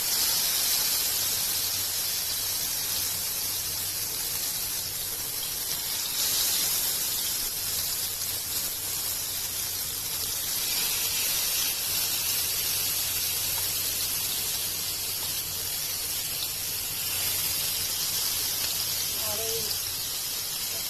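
Hilsa fish sizzling in oil in a frying pan over low heat with spices, a steady close hiss of frying that continues throughout beneath a voice talking.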